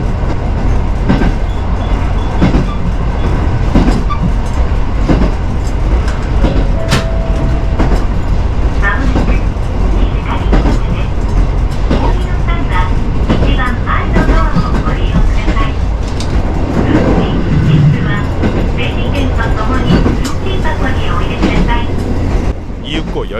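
A train on Japan's Rumoi main line, bound from Fukagawa toward Rumoi, rumbles steadily with a loud continuous roar and rhythmic clicking of the rails, interior noise staying heavy throughout and an occasional brief tone or squeal above it.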